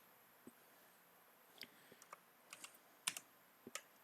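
Numbers are typed on a computer keyboard while running a simple menu program: scattered, crisp keystrokes, sparse at first and then in quicker small clusters, fairly faint against a quiet room.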